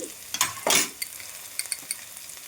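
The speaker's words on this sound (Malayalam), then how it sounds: "വെളുത്തുള്ളി ഇഞ്ചി പച്ചമുളക് കറിവേപ്പില വരട്ടിയെടുക്കാം" Garlic, ginger, green chili and curry leaves sautéing in hot oil in a pan, with short sizzling bursts and scraping stirs from a spoon against the pan, close and brief.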